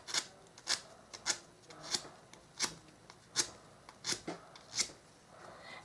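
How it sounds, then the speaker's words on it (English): A bamboo skewer end being sanded down into a rounded tip, heard as a steady series of short, crisp rasping strokes, about one every half second, close and fairly quiet with no other sound. "Bamboo skewers are pretty easy to sand down, so it doesn't take a long time."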